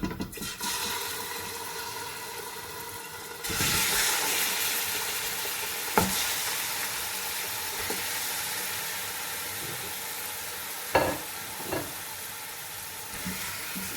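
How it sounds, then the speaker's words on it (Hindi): Chicken pieces frying in hot oil left over from frying onions for chicken haleem, a steady loud sizzle that jumps in intensity partway through, with a few sharp clinks and scrapes of stirring; no talking. "अब इसमें इसी ऑयल में अब हम अपनी चिकन को डाल देंगे"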